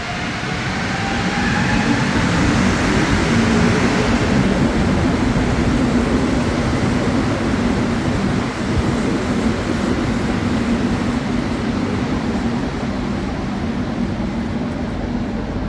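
Steady loud rumble of a Montréal Métro train in motion, with jerky, rattling, clattering wheels and a faint rising whine early on, continuous throughout.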